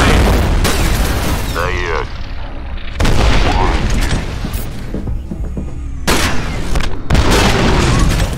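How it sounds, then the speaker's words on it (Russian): Grenade blasts in the video game F.E.A.R., several heavy booms with rumbling tails spaced a few seconds apart, loud and close, mixed with game voices and effects. "Граната, ложи!"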